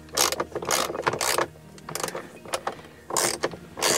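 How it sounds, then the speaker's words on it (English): A socket ratchet with an extension turns a 10 mm bolt loose on a Jeep JL/JT, giving quick bursts of close, crisp ratcheting clicks. The bursts are separated by short pauses, and no one speaks. "you just need a bit of a extension on your ratchet set. and then we're gonna remove that bolt."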